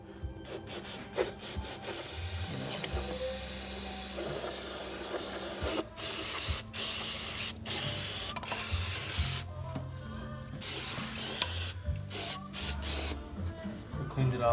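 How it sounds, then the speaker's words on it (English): Berryman B12 Chemtool carburetor, choke and throttle body cleaner sprays in short hissing bursts on a Chrysler 300 2.7L V6 intake, broken by pauses, with scraping and handling noises close by. "Cleaned it off with some Berryman B12 Chemtool, carburetor choke and throttle body cleaner"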